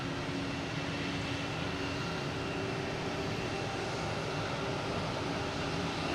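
JetBlue Airbus A321 jet engines roar at full power during takeoff at Boston Logan Airport, a loud, dense, continuous broadband rumble that holds steady throughout.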